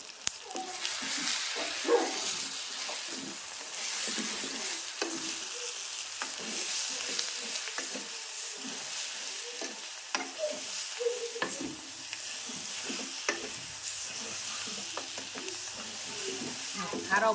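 Onions frying in oil with chili powder sizzle steadily while a spoon stirs and scrapes the pan in repeated close strokes, with a voice briefly heard over the cooking.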